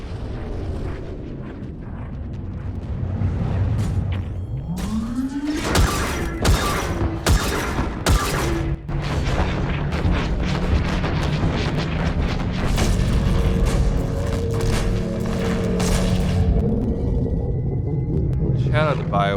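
Big spaceship explosions in the game Mass Effect 3 Legendary Edition, during the Geth and Quarian conflict; a swelling rumble, then repeated loud booming blasts and crackling bursts over a sustained roar, with speech mixed in.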